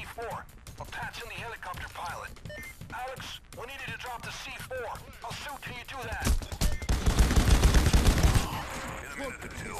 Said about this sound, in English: Rapid fire right there for you guys.